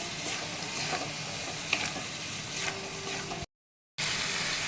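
Mutton masala fries in oil while being stirred, a continuous crackling sizzle with scraping stir strokes and a brief drop to silence near the end.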